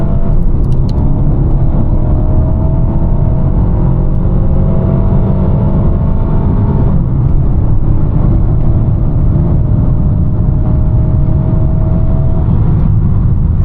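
A 2021 Mercedes-Benz A250 with a 226 hp engine and seven-speed automatic accelerating hard uphill from a standstill, heard from inside the cabin as a loud, sustained engine drone that climbs in pitch, drops briefly at a gear change, then rises again.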